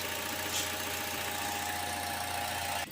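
A Chevrolet Trax engine idles close by with a steady, even hum and a fine mechanical ticking, heard alone until a brief cutoff at the very end.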